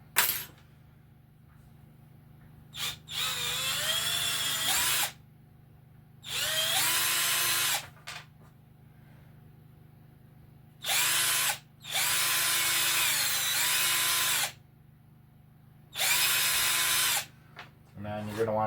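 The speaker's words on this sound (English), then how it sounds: "I'm gonna drill the blocks" An electric drill bores holes in blocks during an RC4WD Chevy Scottsdale scale model build, running in several loud close bursts of a few seconds each, its whine dipping and rising under load, with quiet gaps between.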